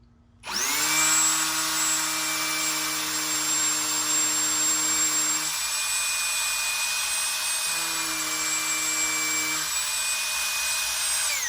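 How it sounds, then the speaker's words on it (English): A loud hammer drill starts up and runs continuously with a steady high whine and a pulsing lower hum that drops out briefly, then returns. "I'm going to put it on hammer drill and it'll go like butter."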